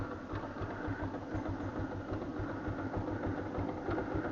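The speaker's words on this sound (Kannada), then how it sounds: "ಇಂಜಿನ್ ಆನ್ ಮಾಡಿಬಿಟ್ಟು ಸ್ವಲ್ಪ ಹೊತ್ತು ಬಿಟ್ಬಿಟ್ಟು ಒಂದು 30 ಸೆಕೆಂಡ್ ಸಾಕು." A Yamaha FZ motorcycle engine idles steadily just after being started, a low, even, rhythmic putter held close and moderately loud throughout, with no talking.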